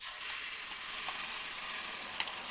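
Tomato chutney hitting a tempering of fried garlic and cumin, giving a steady bright sizzle with soft crackles that holds evenly from start to finish, close and moderately loud.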